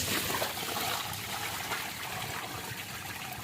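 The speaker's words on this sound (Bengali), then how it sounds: "সবার আগে জলটা ফেলে দিই।" Water pours out of a plant pot, a close, steady splashing trickle that gradually softens toward the end.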